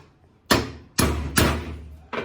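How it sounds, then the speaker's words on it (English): Hammer whacking a car halfshaft in a workshop, four heavy metallic blows spaced irregularly about half a second apart, each ringing briefly, close and loud with no talking. "So whack this one with a hammer as well."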